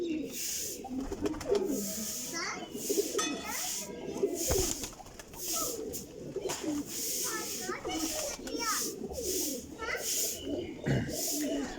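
Mixed flying pigeons, about forty kept for Jeth and Visakh flying in Jhelum, give layered rolling coos close by, a constant overlapping chorus with occasional flutters and someone speaking over it.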